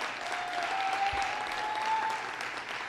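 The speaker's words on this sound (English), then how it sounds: "Congressman Serrano, let's give him a big round of applause." Crowd at a political rally applauding Congressman Serrano in steady, sustained clapping from many hands, moderately loud and continuous for the whole stretch.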